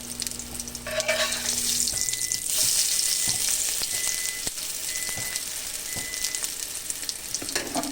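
Marinated gyro meat frying and browning in a pan, a continuous loud sizzle with crackling spatters and occasional clicks, heard alone without speech.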